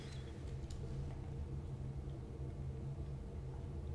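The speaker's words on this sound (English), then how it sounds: "we just updated it with a shorter start engine sound" A video game car's engine in a shortened start-up sound, settling into a steady low rumble that holds for the whole stretch with no talking.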